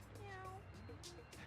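Cat meowing in the No More Heroes video game, a short pitched meow rising then falling, heard faintly over a steady game hum with a voice talking over it.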